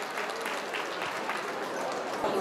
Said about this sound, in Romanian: Aplauze pentru Miri.